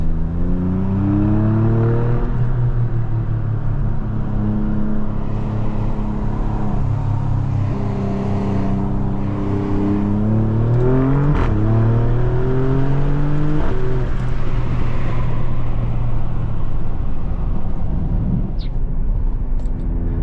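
A 2020 Alfa Romeo Stelvio Quadrifoglio engine pulls loudly and steadily from inside the cabin while driving, its tone climbing and dropping as the revs rise and fall through gear changes, with no talking.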